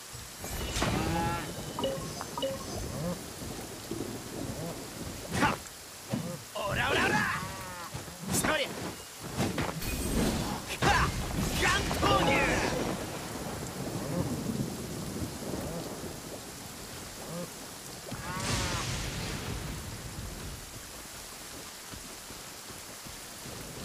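Rain and rolling thunder in Genshin Impact, with heavy thunder cracks and a steady downpour, mixed with game sound effects and characters speaking.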